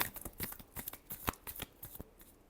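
Tarot cards being shuffled by hand in a quick run of crisp riffling flicks and soft slaps, close and fairly quiet, with no voices.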